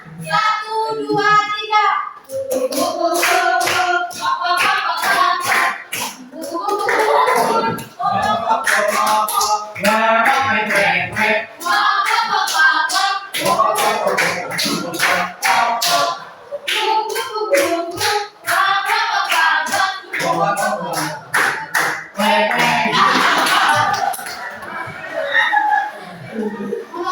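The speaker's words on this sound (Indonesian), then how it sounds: "Sambil tepuk tangan dan bersemangat." A group, likely schoolchildren, sings a kindergarten song while clapping hands in rhythmic bursts, voices and claps close and lively with brief pauses between phrases.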